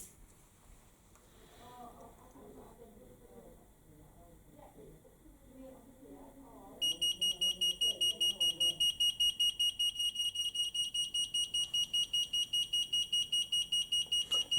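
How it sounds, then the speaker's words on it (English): A smoke detector alarm sounds during a fire alarm test, a loud rapid pulsing high-pitched beep that starts abruptly midway and repeats steadily, after a stretch of quiet talk. "Should one of your smoke detectors be activated within your premises"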